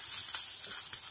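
Onion and spices sizzling in a frying pan, a steady hiss with a few brief stirring scrapes, soft and close, no voices.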